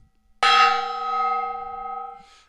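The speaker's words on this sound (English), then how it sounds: "Here's the gong." A gong is struck once in a home workshop, and its bright, shimmering tone rings out loud and close before slowly decaying over a couple of seconds.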